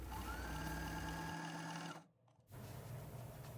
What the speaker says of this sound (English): Top stitch with the stitch length that you prefer. I'm using about a 3mm stitch here.